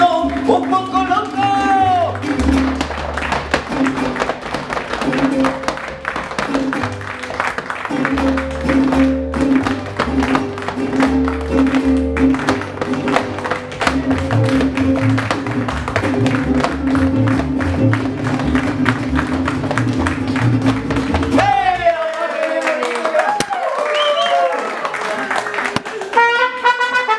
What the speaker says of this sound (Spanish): Y yo quiero que todos me acompañen con las palmitas